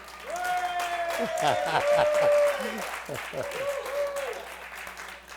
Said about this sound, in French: Est-ce qu'on peut l'applaudir?